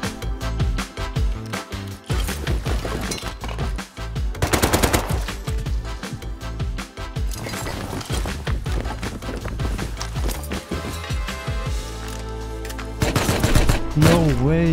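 Rapid bursts of AK rifle fire in a survival shooter game, loud sustained automatic volleys crackling through most of the stretch with brief pauses and a heavier burst near the end, no talking.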